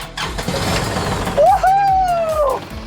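A toy-sized tractor engine cranks and catches in a quick, close burst of mechanical rumble, with a bright rising tone over it and someone talking nearby.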